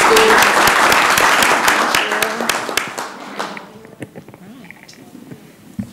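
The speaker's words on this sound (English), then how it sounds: "Let's give them another round of applause" A city council meeting audience claps loudly and densely, the applause tapering off over a few seconds into scattered claps and room murmur.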